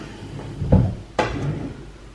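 A bathroom drawer slides open with a soft rumbling scrape followed by a sharp wooden knock, heard close up in a quiet room.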